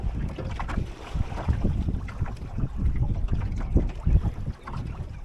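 Wind rushes and buffets past during a sailboat race, a loud, gusty roar battering the microphone with irregular surges, with no talking.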